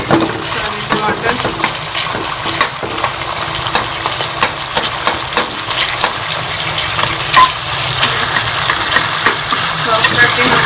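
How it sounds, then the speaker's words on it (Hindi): Tomatoes sizzling and being mashed in a karahi for Peshawari Shinwari beef karahi, with steady loud frying hiss and repeated scraping, pressing strokes throughout. "टमाटरों को जो है इस तरह इसमें मैश कर लेंगे"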